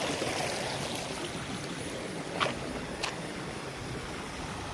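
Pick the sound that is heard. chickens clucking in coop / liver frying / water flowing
water flowing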